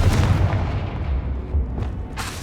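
A Confringo blasting spell goes off in Hogwarts Legacy, a loud booming explosion with a rumbling tail and a second burst near the end.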